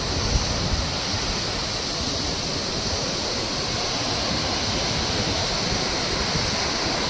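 Powerful waterfall in northeast India roaring steadily and loud at close range, a dense unbroken rush of falling water with no voices.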